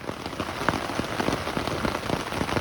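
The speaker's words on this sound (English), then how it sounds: "Just sitting in the tent watching it rain." Steady rain drums on the fabric of a tent during an overnight thunderstorm on the Florida Trail, a dense, close patter of drops with scattered louder taps and no voices.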